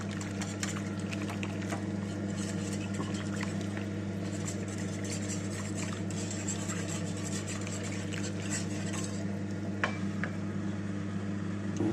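A pot of dried mushroom soup being stirred over the heat, with a continuous low hum and simmering hiss beneath scattered soft scrapes and clicks of the spoon, steady and close throughout with no speech.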